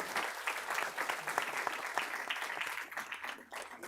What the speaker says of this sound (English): Let's give her a hand clap as she comes.